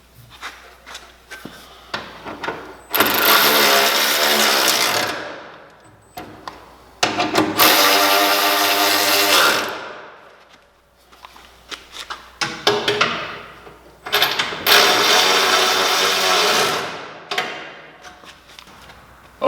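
Fender mounting bolts on a Jeep YJ are run tight with a power tool in several loud, whirring bursts, separated by quieter clanks and handling noises.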